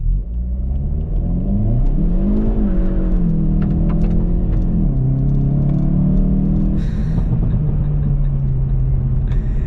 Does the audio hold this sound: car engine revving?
yes